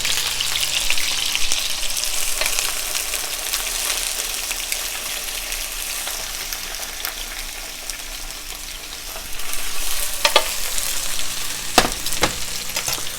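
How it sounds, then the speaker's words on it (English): Oil drains from a hot sauté pan after cooking chicken, a steady close sizzle and crackle with liquid pouring that swells louder partway through, ending with a few sharp clinks. "I'm going to drain the oil."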